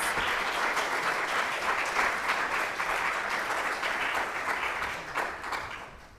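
A church congregation at a Sunday worship service claps for several seconds: dense, steady applause heard nearby that tapers slightly toward the end.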